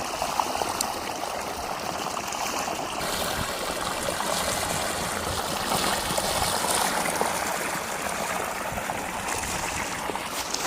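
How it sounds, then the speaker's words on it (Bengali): Water gushes steadily from a shallow tube-well pump into a potato field, a continuous loud rushing and splashing that holds even throughout with no talk over it. "বন্ধুরা দেখো কত স্পিডে জলটা বের হচ্ছে"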